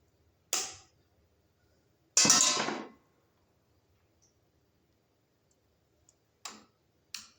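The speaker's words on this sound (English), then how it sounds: "we'll cut it where it's going to go into the top of that terminal there" Electrical wire being cut to length for a 240 V circuit terminal, a few sharp crisp snips and clicks of cutters, separated by silence, close and fairly loud.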